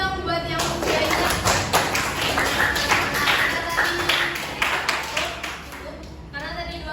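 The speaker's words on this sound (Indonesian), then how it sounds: "Beri aplaus dulu dong buat yang sudah ingat." Students in a classroom clap together for classmates who answered correctly during a practice teaching lesson, a loud, sustained burst of close applause that eases slightly toward the end.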